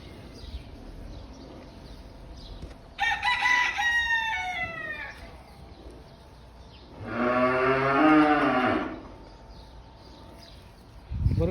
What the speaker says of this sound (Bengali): গরুটি অত্যন্ত সুন্দর,